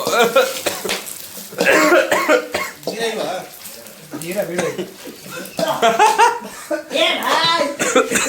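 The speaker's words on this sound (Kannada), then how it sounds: "ಸ್ಟಾರ್ಟಿಂಗ್ ಅಲ್ಲೇ ಫುಲ್ಲು ಕೆಮ್ಮು" Several people coughing repeatedly up close, the harsh coughs mixed with talking and bursts of laughter.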